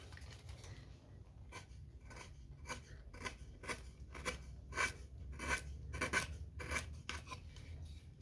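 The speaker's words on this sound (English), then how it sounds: "It's about as far as I can get my chisel, and that's fine." Wood chisel strokes carving a wooden gnome or angel figure come as a quiet, steady series of short scraping cuts, close by, with no talking.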